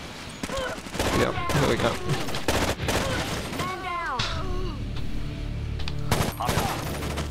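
Gunfire in the tactical shooter Rainbow Six: Raven Shield, rapid bursts crackling throughout alongside game effects while a player talks over the shooting.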